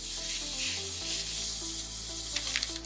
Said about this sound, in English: I'm gonna spray it with some pan spray just to keep it from sticking too much